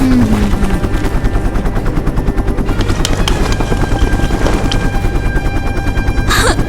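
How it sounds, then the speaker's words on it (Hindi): A helicopter's rotor thumps loudly and steadily, a continuous heavy chopping drone with mechanical whine that stays close and strong throughout, with no voices. "चिंता मत करो, एलिस तुम्हारे लिए भी एक हेलीकॉप्टर आएगा और तुम्हें भी मैं बहुत दूर ही भेजने वाली हू"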